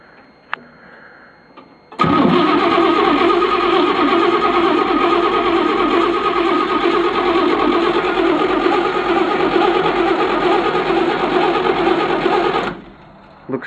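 The engine of a 1962 Chevy P30 being revived, with a quiet lead-in before it catches and settles into a loud, steady running drone for about ten seconds, then cuts off.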